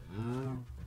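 A single cow moos in the Minecraft video game, a short, close, low, droning call lasting under a second.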